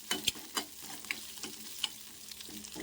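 Two dried red chillies frying in groundnut oil for a wild greens dish, a light sizzle broken by a few sharp spoon taps and stirring scrapes, close with no voices.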